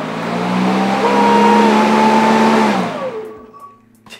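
Toro 60V electric lawn mower motor starting up, a loud steady whirring hum with rising tonal whine that holds for nearly three seconds, then spins down and fades away.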